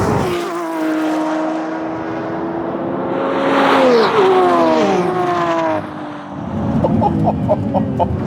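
Two V12 Lamborghinis, an Aventador Ultimae and a Revuelto, launching in a drag race: a loud engine roar rises sharply through rapid upshifts and fades off into the distance, with no talking over it.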